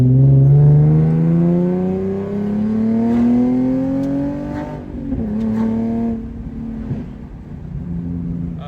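A car drives along the road, its engine a loud, close hum that rises and falls in pitch as it speeds up and shifts, with steady road rumble underneath and no talking.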